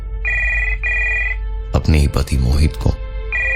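Intercom telephone ringing in a room, two clear repeated ring bursts, then a voice speaks over it before a third ring begins; loud and close.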